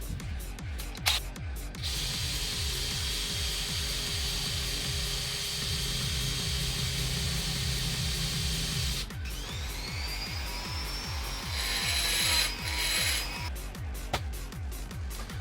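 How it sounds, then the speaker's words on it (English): A small drill whirs steadily for several seconds, pauses, then runs again with a rising whine, over a repetitive mechanical ticking background. "I'm going to drill a hole right there."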